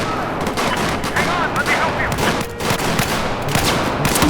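Dense, loud automatic gunfire fills a Battlefield 4 multiplayer battle, sustained bursts rattling almost without pause, with a voice faintly talking beneath.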